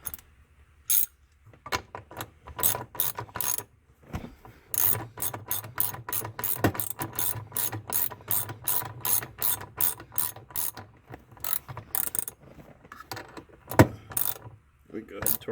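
Ratchet tool tightening the e-brake adjuster on a Ford Focus Mk3, crisp close clicking in quick bursts separated by short pauses, with a bit of speech in places.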